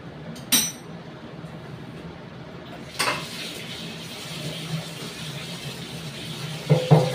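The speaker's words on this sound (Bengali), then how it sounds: "দেখো কড়াইটা আমি বসিয়ে নিলাম" A metal kadai (wok) is set down on a kitchen stove, making a few separate clanks and clunks of metal on the burner, close and fairly loud, with quiet room noise between them.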